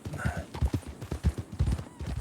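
Horse hooves clip-clop in a video game, a steady close rhythm of hoof beats on hard ground with a voice talking over them.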